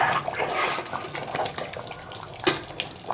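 Water bubbles and churns steadily in a cooking pot while making vegetable pulao, with irregular pops and splashes and no talking.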